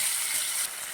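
Chopped tomatoes hitting hot oil in a pan, giving a steady, loud, bright sizzle that stays close and even for the whole short moment with no talk over it.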